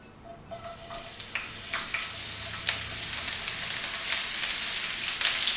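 Peppers fry in canola oil in a very hot, large pan, giving a bright continuous sizzle with crackles and scattered pops that grow louder over several seconds.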